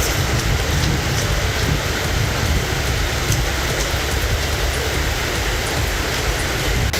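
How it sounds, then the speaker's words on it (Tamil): Heavy rain pours down in Chennai as a loud, dense, unbroken hiss that stays constant throughout, with no voices and no distinct thunderclap. "சென்னை மற்றும் புறநகர்களில் 4 மணி நேரத்திற்கு மேலாக இடி மின்னலுடன் மழை பெய்தது"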